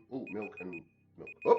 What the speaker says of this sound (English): Oh my God. There is an alarm.